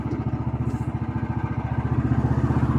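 A Scheppach EXC815 mini excavator's small engine runs close by while the upper body rotates, making a steady, loud, rapid pulsing putter with a rhythmic thumping beat.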